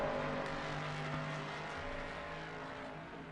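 A Jaguar race car in Assetto Corsa Competizione drones with a steady engine note, pitch shifting slightly as it runs, with no speech.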